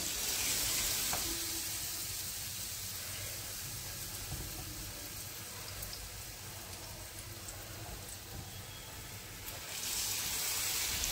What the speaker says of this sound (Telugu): సో ఫస్ట్ పొటాటో బజ్జీ వేస్తున్నాను